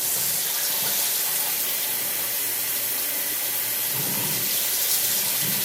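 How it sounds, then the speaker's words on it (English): Hot water gushing from a sink tap into a Crown King shaving scuttle, a steady broadband hiss and splash that holds at an even level for several seconds with no voices. "So now I'm going to flip it over and fill up the spout."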